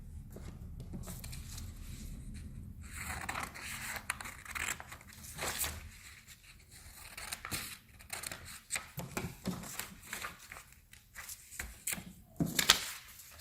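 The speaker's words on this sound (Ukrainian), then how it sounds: "Вирізаємо шматочок паперу" Scissors snip through a piece of paper for a pop-up greeting card craft, giving a run of crisp, close cuts and rustles in irregular bursts, with a sharper snip near the end.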